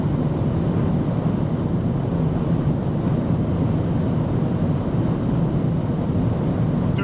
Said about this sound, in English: But wind noise is really nice. There's also not much tire noise